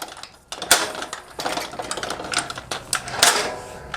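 A metal trailer jack swiveling back into place, a few short clanks and ratcheting rattles close by, uneven bursts over about four seconds with no talk.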